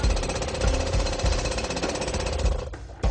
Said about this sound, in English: They have just breached a hole with the jackhammer.